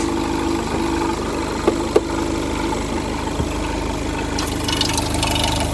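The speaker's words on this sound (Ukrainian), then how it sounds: "ось так працює двигун" A diesel Volkswagen Golf TDI engine idles steadily nearby with a low, even rumble, a faint plastic rattle and a couple of small clicks, no voices.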